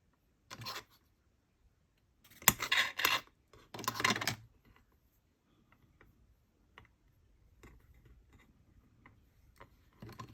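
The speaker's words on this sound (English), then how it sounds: "But for now I'm just going to cut them into these longer pieces." A small craft knife cuts polymer clay into longer pieces: three short bursts of scraping and slicing come close together near the start. Faint scattered ticks and light taps follow in near silence, with no voices.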